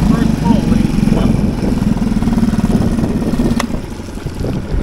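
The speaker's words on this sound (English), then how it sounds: "Should we start the motor?" A boat's motor runs with a steady, loud low rumble close by, then quiets slightly near the end; people talk over the engine.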